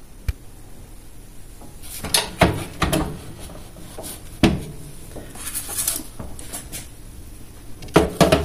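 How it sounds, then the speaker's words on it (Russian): A sesame-topped barkhany cake being put into an oven, with close clattering knocks, a rubbing slide and a few thuds of the oven door and tray, spread over several seconds. "Все, ставлю в духовку."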